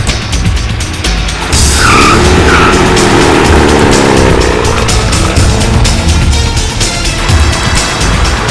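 A car accelerates hard during a police chase, its engine loud and close while tires squeal and skid in long screeching bursts, with no talk over it.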